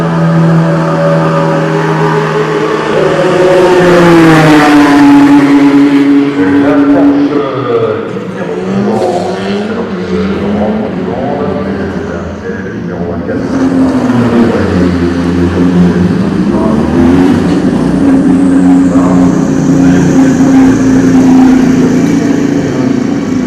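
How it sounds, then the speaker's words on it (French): A Porsche race car pulling out of the pits during qualifying at the Le Mans 24 Hours, a loud, close engine note rising and falling through gear changes, with a second surge later, outdoors. "il y a une Porsche qui sort"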